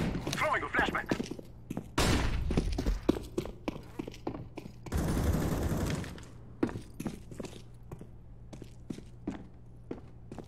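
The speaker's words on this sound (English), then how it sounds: "Throwing a flashbang." A flashbang grenade thrown during a Counter-Strike match: a loud burst of blast noise and a second long hissing whoosh amid clattering in-game footsteps and thuds, with voices talking over it.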